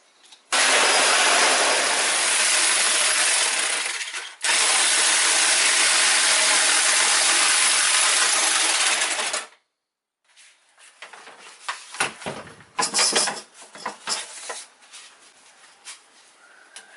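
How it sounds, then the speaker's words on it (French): A jigsaw cuts loudly and steadily through an awning part in two long bursts with a short pause between, then stops, leaving scattered clattering and handling noises. "je vais carrément découper à la scie sauteuse"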